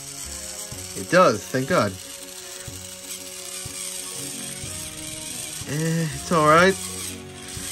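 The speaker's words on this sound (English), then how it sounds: "Motor could be better, but at least it works" Small motor of a birthday gift gadget whirring steadily at close range, with brief speech bursts near the start and again toward the end.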